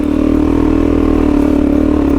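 A motorcycle engine revs steadily and loud throughout, held at high revs as the adventure bike climbs out of McIntyre's Hut over loose rock in the Australian Snowy Mountains, with no talk over it.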